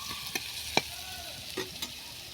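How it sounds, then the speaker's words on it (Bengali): Carrots and beans fry with salt and turmeric in a pan, a soft low sizzle broken by a few sharp stirring clinks and scrapes close by. "গাজর আর বিনসটাকে নুন হলুদ দিয়ে ভেজে নিচ্ছি ভালো করে।"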